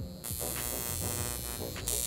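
An electrical stimulation device switches on and gives off a steady, close electric buzz with a throbbing hum that lasts to the end, with no voices.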